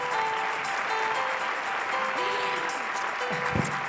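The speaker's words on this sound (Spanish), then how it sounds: "muchas gracias por este aplauso" Audience applause at a parenting event in Las Palmas, a steady dense wash of clapping filling the whole stretch at even strength, with faint tonal background sounds underneath.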